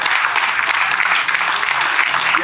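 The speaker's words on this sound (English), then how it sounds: "applaudissement pour Prince Alla" Audience applause fills a conference session at a reggae dub festival, a steady dense clapping from a large crowd close by, held evenly throughout with no talk over it.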